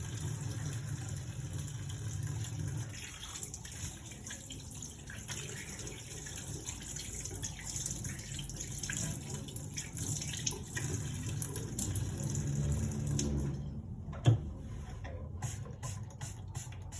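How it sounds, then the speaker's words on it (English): Hands being washed under a running tap before a medical procedure, a steady soft rush of water throughout with a faint hum, broken near the end by a single brief clunk. "That's why we do hand washing before and after each procedure."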